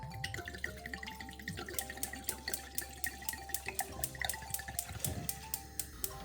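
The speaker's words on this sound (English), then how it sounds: "You start off by pouring the wine in." Wine poured into a pot as the base for mulled wine, a steady liquid trickle with quick regular drip-like splashes running close and fairly quiet throughout.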